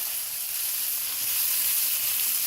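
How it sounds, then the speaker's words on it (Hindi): Steady, even sizzle of chopped onions frying in a pan, a continuous close hiss with no talking. "अब इसमें हम साथ चॉप्ड प्याज डाल देंगे"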